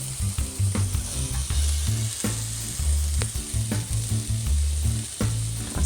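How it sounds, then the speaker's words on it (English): Red onion hits a hot wok for vegan sisig and sizzles loudly and steadily, with repeated scraping and tossing strokes and clanks of a spatula stirring through the mixture. "Okay, we're going to add the red onion."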